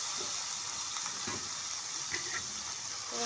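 Tomatoes, green chillies and onions fry in hot oil in a pan, producing a steady, soft sizzle and hiss with occasional faint stirring clinks, close and quiet, with no talking.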